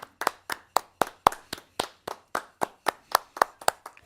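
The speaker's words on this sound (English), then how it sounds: "Round of applause" A single pair of hands claps close by in a steady rhythm of about fourteen sharp, evenly spaced claps, loud and dry with silence between them, forming a short round of applause.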